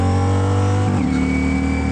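A 2023 Ducati Diavel V4 motorcycle engine roars steadily at close range through an aftermarket exhaust, its pitch dropping briefly as a gear shifts, then climbing again under acceleration.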